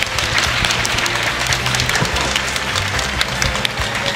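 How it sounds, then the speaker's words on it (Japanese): A crowd applauds at the grand final of a doubles esports tournament, with dense, loud, sustained clapping throughout and no break. "グランドファイナルを戦ったカメメ HC チームにも、健闘の拍手をお送りください"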